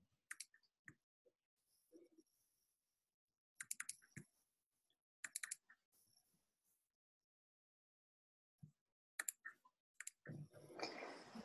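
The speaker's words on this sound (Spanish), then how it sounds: "se escucha tu teclado" Computer keyboard typing during a video call, quick bursts of clicking keystrokes in short clusters separated by silence, ending in a rush of noisy rustle, no talking.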